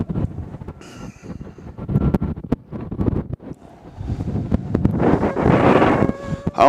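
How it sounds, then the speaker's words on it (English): Gusty cold wind buffets the microphone in uneven bursts at an airport, building into a strong, sustained roar toward the end. "I hope y'all can hear that wind"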